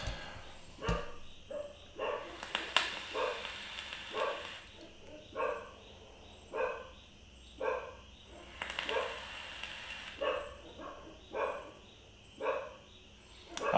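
Several dogs bark in repeated short volleys, fairly close, with brief quiet gaps between bursts and no talk over them.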